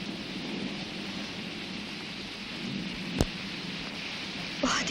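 Heavy rain pours steadily and close by, a dense continuous wash with no voices, broken by one sharp crack and a brief louder burst near the end.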